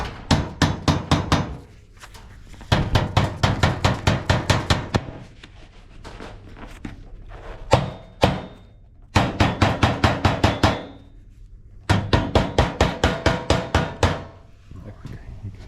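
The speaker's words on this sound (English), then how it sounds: "You fold the corners over, slightly tap with your hammer." A hammer taps the folded-over corners of metal roof capping in quick rhythmic bursts of sharp, close metallic strikes, separated by short pauses and a few single heavier blows.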